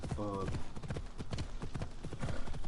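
Horse hooves clip-clop steadily in Assassin's Creed Odyssey, a fairly loud rhythmic trot running the whole time, with a brief snort or whinny near the start.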